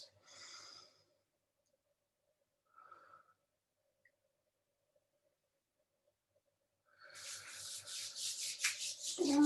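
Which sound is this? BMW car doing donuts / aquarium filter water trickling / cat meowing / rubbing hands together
rubbing hands together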